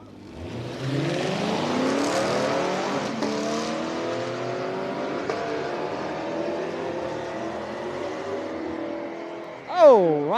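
Camaros launch side by side at a drag strip, engines roaring with rising, stepped gear pulls as they accelerate away, a loud sustained blare that later fades, with a sharp nearby rev burst at the end.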